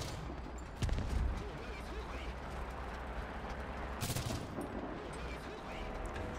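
ZSD63 Shilka anti-air guns in War Thunder firing short bursts, rapid gunfire that swells twice over a continuous roar of combat noise, moderately loud.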